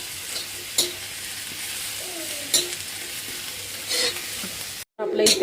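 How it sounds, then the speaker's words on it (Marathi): Whole spices and masala dry-roast in a pan without oil, giving a soft, even crackle with a few sharp scrapes and knocks of stirring, then a short break and a louder burst of sizzling. "हे बघा बिना तेलाचा छान भाजतो। त्याच्यामध्ये थोडे खडे मसाले पण टाकून घेऊया"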